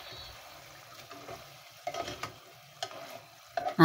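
Soft scraping and clinking of a utensil stirring fried chicken in chili sauce with curry leaves in a pan, with a faint sizzle underneath, intermittent and close.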